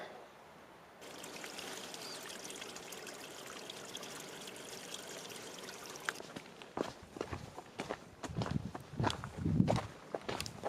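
Footsteps crunching and splashing along a wet dirt road turned to running water near a Colorado trailhead after a hike, preceded by a steady stream-like trickle, the steps growing louder and more distinct toward the end.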